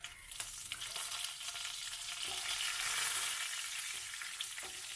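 Urad dal, dried red chillies and curry leaves frying in oil in a pan, giving a steady, dense sizzle with occasional stirring scrapes throughout, close and fairly loud, no voices.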